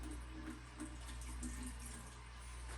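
Water trickles and splashes softly into a small dish inside a reptile enclosure, a faint continuous pour over a low hum, with no talking.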